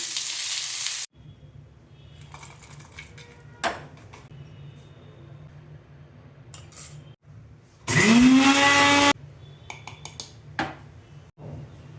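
Onions and tomatoes frying in a spoon of oil, with quiet sizzling, occasional clatter of a spoon against the pan, and one brief loud burst of hissing midway, no voices.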